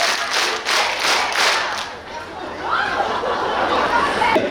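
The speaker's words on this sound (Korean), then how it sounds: "박수 다섯 번 시작!" A festival crowd at the Yangyang salmon festival claps five times together in even, loud beats, then breaks into scattered cheering and chatter.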